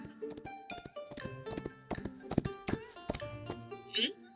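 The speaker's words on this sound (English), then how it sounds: "I hear a distant sound of galloping hooves." Galloping horse hooves in a historical Chinese-setting video game, a run of clip-clop beats under music and ambient game sound, with a brief high whinny-like burst near the end.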